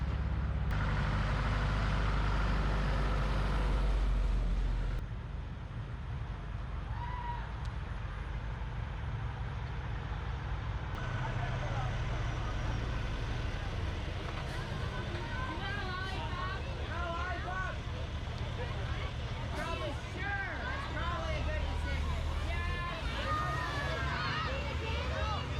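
Parade vehicles rolling past along a town parade route, a heavy continuous rumble of engines and tyres near and loud, with crowd babble and distant voices mixed in throughout.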